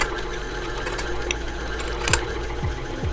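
A stand mixer kneads cinnamon roll dough at high speed, giving a steady close whirring motor hum with a faint rhythmic churn and occasional small knocks, and no voices.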